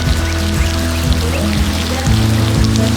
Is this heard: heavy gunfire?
no